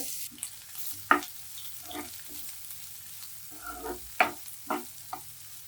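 Steady sizzling of three medium onions frying in a hot pan for a snake gourd dish, with occasional pops and spatters over a constant hiss.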